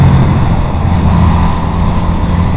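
A Yamaha Virago 250 motorcycle engine rumbles loud and close while downshifting, with a deep, continuous exhaust note and slight changes in revs under heavy wind noise.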